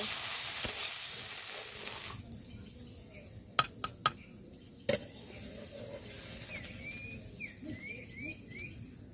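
Shrimp and pumpkin flowers with turmeric stirred in a pan, giving a soft steady sizzle with a few sharp utensil clicks against the pan, birds chirping faintly in the background of an outdoor village kitchen.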